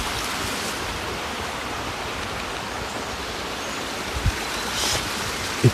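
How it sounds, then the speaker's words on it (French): Small river stream at a solo bivouac in March, a steady, close broadband rushing of flowing water with a couple of faint knocks near the end. "ça couvre pas le bruit de la rivière, du ruisseau."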